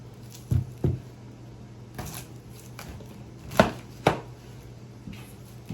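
A knife chopping onion on a board for peach salsa, a handful of sharp separate cuts in pairs with quiet gaps between them, close and distinct.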